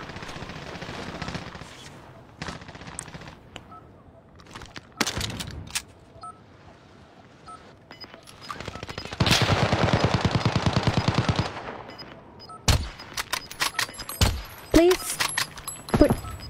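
Video game gunfire crackles in short bursts and a sustained rapid volley of automatic shots, mixed with sharp single reports and game effects, while a player talks excitedly over it.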